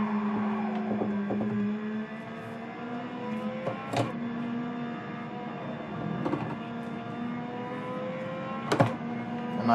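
A BMW engine in a racing video game drones steadily with a rising and falling pitch as the manual gearbox shifts, broken by a few sharp clicks, continuous and moderately loud with no talk.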